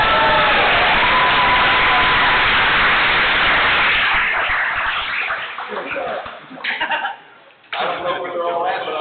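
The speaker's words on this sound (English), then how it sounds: "Give yourself a round of applause." A crowd at an airsoft tournament claps and cheers loudly for several seconds, the applause gradually thinning out as people start talking.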